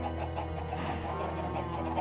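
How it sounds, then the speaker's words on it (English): Chickens cluck in the video game Minecraft, a run of short repeated clucks over a steady low in-game background hum, with no talking. "Oh wait, we have chickens."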